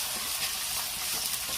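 Tomatoes sizzle in a pan over ginger garlic paste for a chicken curry, giving a soft, steady hiss with no talking.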